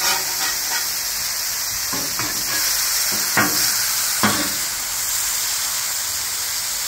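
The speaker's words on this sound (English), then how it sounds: "Beautiful sear." An onion burger searing on a flat top griddle, giving a steady loud sizzle and hiss throughout, with a few soft scrapes of a spatula against the metal.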